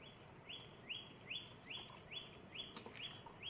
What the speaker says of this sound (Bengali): বিভিন্ন রকমের পাখির ডাক কিন্তু শোনা যায়